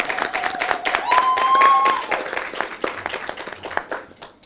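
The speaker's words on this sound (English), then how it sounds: "you should give these guys a round of applause for what they have produced on display" At a junior cooking competition, an audience claps for the young competitors: scattered, uneven hand claps with crowd murmur, while a high whistle-like tone glides briefly in the middle and the clapping thins out toward the end.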